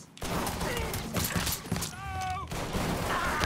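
Gunfire rattles through a dense, loud action scene in the video game Mafia III, sharp shots packed together over continuous clatter and other game sounds.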